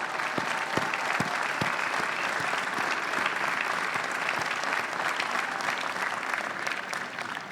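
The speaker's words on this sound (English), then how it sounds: "how about another round of applause for the parents and the families and the friends and the entire Notre Dame community" Sustained audience applause at the 2025 Notre Dame commencement, honoring graduates' parents, families and friends: a thick, even wash of clapping from a large crowd, unbroken and steady throughout.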